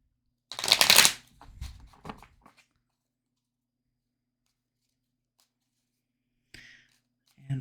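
Cards are shuffled in a crisp riffle, followed by a few softer shuffling taps, then quiet before a brief final shuffle near the end.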